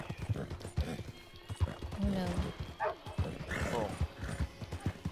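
Horse in Red Dead Redemption 2 clip-clopping along with a few whinnies, hooves steady and close, under a player's brief exclamations.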